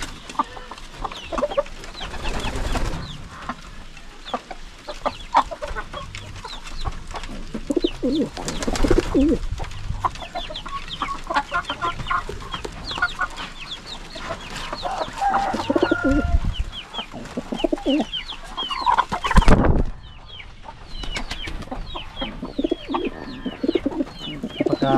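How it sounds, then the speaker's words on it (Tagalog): Pigeons coo steadily in a backyard coop, overlapping calls and soft clucking filling the whole stretch at close range, with brief louder flutters or bumps now and then and no talk. "Yan po yung mga kalapati na rin"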